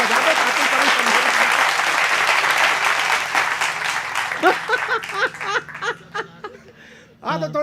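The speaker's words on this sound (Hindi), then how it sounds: "तो एक बार इनके लिए तालियां बजा दो" A hasya kavi sammelan audience applauds a poet in a dense, loud burst of clapping that thins into scattered claps, with laughter and a voice speaking over the fading applause.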